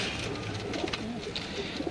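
Pigeons coo softly on a rooftop in Shahdara, low murmuring calls under faint background noise, brief and continuous.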